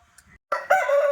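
A Shalam breed rooster crows once, rising sharply into a loud, strained cock-a-doodle-doo after a few faint scratchy sounds, close by and without talk.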